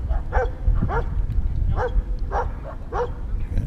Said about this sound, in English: One dog is going to kind of help the other dog or take the ball from it.